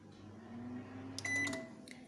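A microwave oven being switched on in a home kitchen: a low steady hum rises, then a short bright beep sounds, all fairly quiet and without talk.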